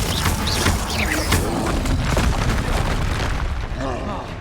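Confringo fire spell in Hogwarts Legacy combat: dense booming blasts and bursts come in rapid succession amid a constant wash of battle noise, loud and close throughout, with a voice speaking over parts of it.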